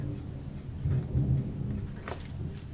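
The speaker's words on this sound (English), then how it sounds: "I can hear the thunder rolling." Low, rumbling thunder rolls in the distance, swelling in the middle and fading again under steady rain-like background noise, with a faint brief crackle near the end.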